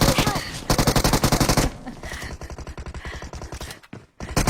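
Rapid bursts of automatic gunfire in PUBG on the Erangel map rattle loudly in quick succession, with short pauses between volleys, sounding like game weapons firing close by.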